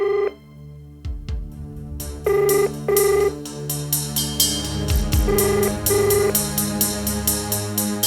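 A telephone rings in repeated electronic bursts over a low musical score with deep booming hits, the rings coming in pairs at an even pace, and no one speaks.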